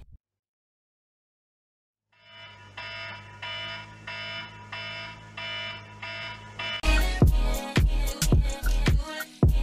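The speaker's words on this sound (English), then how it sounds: "until the alarm clock goes off again" An alarm clock goes off after a brief silence, sounding a steady repeating series of loud electronic beeps that shift partway through into a sharper, faster pulsing pattern, heard alone.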